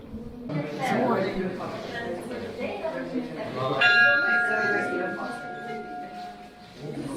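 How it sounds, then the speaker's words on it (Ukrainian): A church bell in the Carpathians, at Verkhovyna, rings with a sustained resonant tone that overlaps people talking, clear and fairly close, fading slowly over several seconds. "Навіть можна подзвонити в дзвони."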